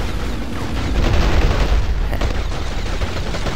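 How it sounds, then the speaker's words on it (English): Gunfire in the cartoon shooter Battlefield Heroes, a steady dense rattle of shots and low booms rolling on continuously at moderate loudness, with faint talk beneath. "Who's shooting at us?"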